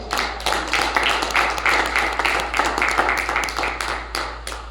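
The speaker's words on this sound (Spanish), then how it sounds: "denle un aplauso al Señor, hermanos" A church congregation applauds together, a dense, steady wash of many hands clapping close by for several seconds with little pause and a low hum underneath.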